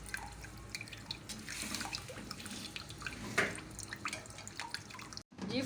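Juice dripping and trickling from a freshly cut aloe vera leaf in a home kitchen: irregular close wet drips and small splashes over a faint watery background, no voices.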